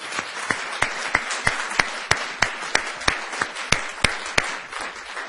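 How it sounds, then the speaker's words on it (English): An audience at a moot court competition final gives the competitors a round of applause, a sparse group of distinct claps with sharp, regular hand strikes at close range, holding steady for several seconds. "Please give them all a round of applause."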